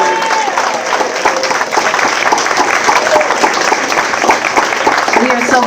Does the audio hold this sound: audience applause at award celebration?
yes